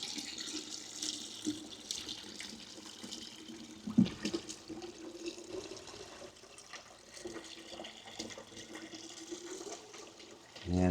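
Comfrey extract liquid poured out of a container in a garden, a gurgling, splashing flow that comes and goes, with a heavier splash and then a loud gush at the end.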